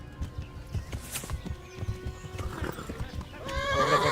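A horse in Kingdom Come: Deliverance gallops with rapid, close hoofbeats thudding in a quick rhythm, then ends with a loud whinny.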